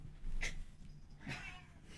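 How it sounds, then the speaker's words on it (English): A pet cat meows twice, softly and fairly close, during a podcast recording; the two short cries are separated by a pause over a quiet room background. "We have a kitty on the podcast, guys."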